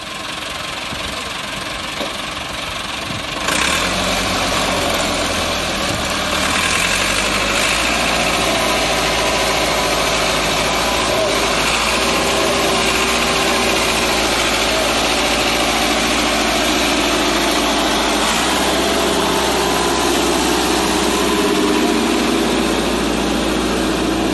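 Heavy tractor engine running steadily while pulling a car out of water, a loud continuous low rumble with knocking and vibration that grows after a brief quieter start and holds throughout.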